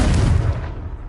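In Hogwarts Legacy, the Confringo fire spell explodes as one loud, deep boom that rumbles and fades over about a second.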